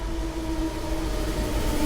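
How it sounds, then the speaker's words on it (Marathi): A local commuter train in Europe rolls along with a steady rumble and a faint sustained tonal whine, close and continuous with no talking. "ही लोकल ट्रेन आहे इकडची."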